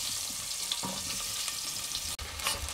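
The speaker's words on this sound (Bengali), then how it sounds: "আলুটা আমি সুন্দর করে গোল্ডেন ব্রাউন করে ভেজে নেব।" Potato pieces fry in hot oil until golden brown, giving a dense, steady sizzle with occasional soft stirring scrapes and one brief dropout, close and continuous with no voices.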